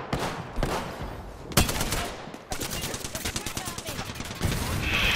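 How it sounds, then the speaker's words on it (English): Gunfire in the video game Apex Legends, with a single sharp shot followed by a rapid burst of automatic fire, fairly close and loud over game ambience. "I'm being shot at."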